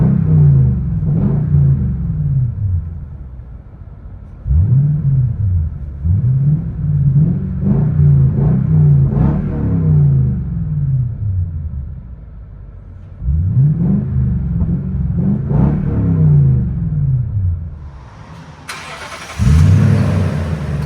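Inside the cabin of a 2014 Toyota Sequoia with a 5.7L V8 and true dual straight pipes, the engine rumbles loudly and revs up in repeated swells, with brief idle lulls between pulls.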